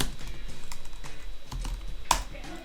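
Quick, close keystrokes on a computer keyboard tap in an uneven rhythm while a command is typed, ending in one sharper, louder key press.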